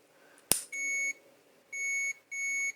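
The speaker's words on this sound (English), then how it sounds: "I don't know what that intermittent beeping means" An old Hoover Junior vacuum cleaner gives off short, high electronic beeps, three tones in an uneven intermittent pattern after a sharp click, fairly faint in a quiet room.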